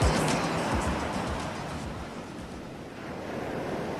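Ocean surf rolls in a steady, broad wash of waves, loud and continuous with some wind noise against the microphone, and no voices over it.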